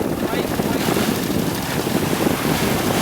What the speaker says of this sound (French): On commence à avoir le vent d'ouest, là.